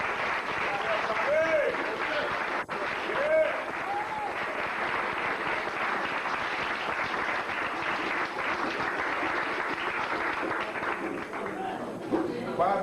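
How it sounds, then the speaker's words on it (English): Sustained audience applause for Bobby Hemmitt at a Cleveland lecture event, a full crowd clapping loudly and continuously with a few whoops and cheers rising over the dense clatter. "Bobby Hemmitt, a great round of applause."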